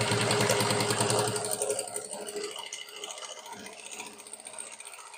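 A sewing machine stitches cloth while a saree with a waist belt is sewn, its rapid mechanical rattle loud at first and then fading to a quieter, uneven run.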